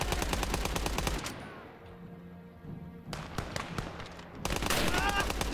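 A belt-fed machine gun firing in Call to Arms: Gates of Hell during the siege of Sevastopol, rapid loud bursts that stop for a quiet pause, then resume in sharp volleys close by.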